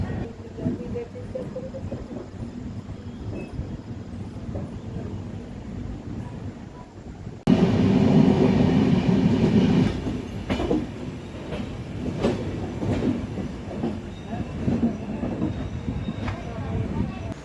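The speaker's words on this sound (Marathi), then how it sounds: "इथून आपली ट्रेन निघालेली आहे प्लॅटफॉर्म नंबर एक वरून" The KSR Bengaluru Nanded Express (train 16593) rumbles steadily as it runs away from a station, heard from on board, growing louder partway through with rhythmic clatter and wheel noise.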